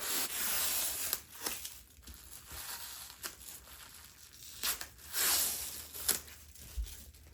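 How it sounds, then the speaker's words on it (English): Tape and press-and-seal plastic wrap are peeled off minky and fleece fabric in close, bursty ripping and crinkling strokes, several separate pulls with short quiet gaps between them. "now we're going to pull off the tape and the press and seal"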